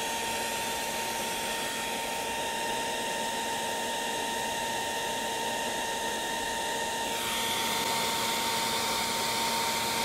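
A heat gun blows hot air onto a car dealer sticker to loosen it for peeling, producing a loud, constant fan roar and hiss whose tone shifts slightly partway through; no one speaks.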